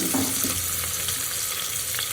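Onion and curry leaves frying in a pan for pulao, a steady continuous sizzle close by with faint clinks, no talking.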